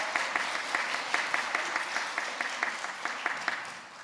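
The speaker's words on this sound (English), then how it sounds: "Let's give them a clap." A modest group at a primary school assembly claps steadily, a brisk round of applause at a moderate level with a few louder claps standing out.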